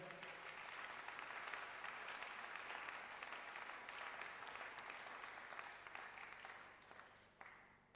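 A church congregation applauds, a steady wash of clapping from many hands that holds for several seconds before fading out.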